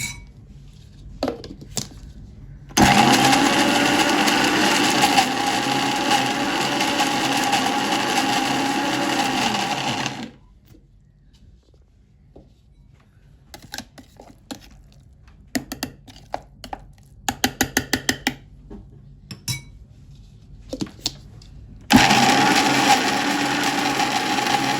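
A mixer grinder blends coriander leaf chutney in two loud, steady whirring bursts. Between them comes a quiet stretch of clatter and tapping as the jar is opened and stirred.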